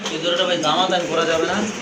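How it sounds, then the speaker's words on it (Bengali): Pigeons at a market stall, including running pigeons with pink beaks, coo softly and continuously, partly under a voice speaking nearby. "খুবই সুন্দর কবুতর দেখেন"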